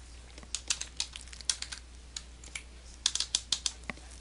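Someone types on a computer keyboard while writing HTML and CSS code, producing close, crisp key clicks in uneven bursts, with a quick flurry of strokes toward the end and no talking.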